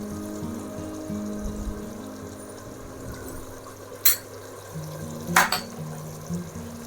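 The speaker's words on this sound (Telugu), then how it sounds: "ఇప్పుడు మంచిగా ఉప్పు కారం పసుపు అన్నీ కలిసేటట్టుగా కలుపుకుందాము." Salt, chili powder and turmeric being stirred into mutton in a pan for gongura mutton, a low continuous bubbling simmer with two sharp metallic clinks of a spoon against the pan.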